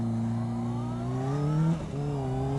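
A new motorcycle fitted with an Akrapovic exhaust, its engine holding a steady, loud, close drone that rises slightly in pitch, then dips and briefly falls away before settling again.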